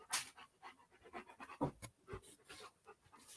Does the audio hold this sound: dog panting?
yes